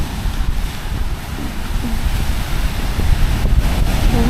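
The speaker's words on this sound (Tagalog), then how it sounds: "So, ang taas ng alon." High ocean waves off Siquijor rumble and wash in a continuous low roar, with heavy wind buffeting the microphone throughout and no voices.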